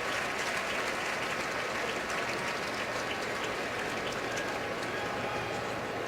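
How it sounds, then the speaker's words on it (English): Fans in the Georgia Dome, an NFL stadium, applaud an injured Ole Miss player during a college football game, a broad continuous wash of crowd clapping and noise heard from a distance. "nice applause from the fans here as"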